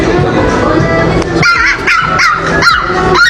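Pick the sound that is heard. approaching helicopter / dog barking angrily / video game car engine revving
dog barking angrily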